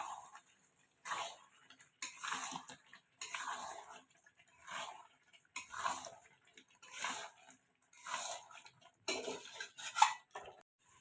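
Potatoes stirred and scraped around a pan while cooking a Bengali egg curry, with steady repeated strokes about once a second, close and moderately loud, with no talking.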